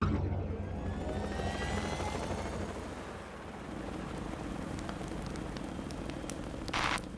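Helicopter engines whine and rumble steadily, the turbine pitch shifting as they spin up, loud and close, with a brief rattle near the end.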